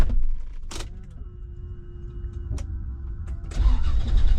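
Toyota Land Cruiser 80, a top Japanese-market trim, starting up: a short cranking burst, then the engine catches and settles into a steady idle, close by and fairly loud, ending with a louder rev or rumble.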